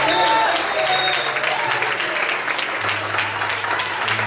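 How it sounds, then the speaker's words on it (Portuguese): A church congregation at an evangelical service applauds in praise, a dense continuous wash of clapping that holds steady throughout, with a low hum and faint voices underneath. "Quando podem aplaudir e glorificar a Deus"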